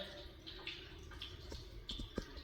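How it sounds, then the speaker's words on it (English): Water trickles faintly from a sink tap in a building under repair, soft irregular drips and splashes over a quiet background hum. "Water is still trickling out of these sinks."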